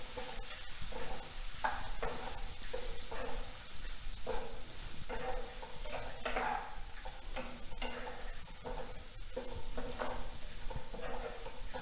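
Ivy gourd (tondli) sautéing in a pan with dried red chilli, red chilli powder and spices, giving a steady sizzle broken by repeated scraping stirs of a spoon, close and fairly loud with no talk.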